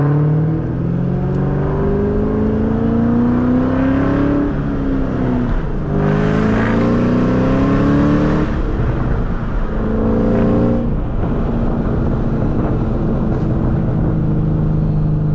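Shelby Cobra replica fitted with headers, driven hard with repeated loud revs rising and falling through the gears, engine close and continuous.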